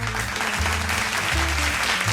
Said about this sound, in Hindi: Ladies and gentlemen, जोरदार तालियों के साथ please welcome Arpita and Shobha